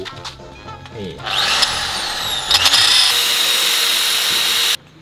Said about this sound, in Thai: แล้วผมก็จะเจาะรู